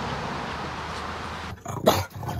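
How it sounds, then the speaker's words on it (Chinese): A small dog, near and indoors, gives a brief burst of barking and growling after a stretch of steady background hum. "是一个爱吃蔬菜的小狗"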